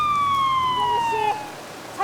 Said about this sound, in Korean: 그때 사이렌 소리와 함께 갑자기 들이닥친 경찰.